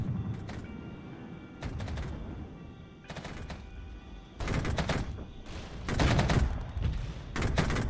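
Gunfire in the strategy game Regiments: bursts of machine-gun fire and rattling volleys crackle at mid distance, growing louder and denser toward the end, with no voices.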